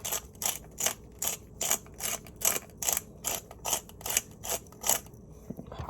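A spice grinder full of mixed peppercorns is twisted repeatedly, giving about a dozen evenly spaced crisp ratcheting crunches, close and clear against a quiet background.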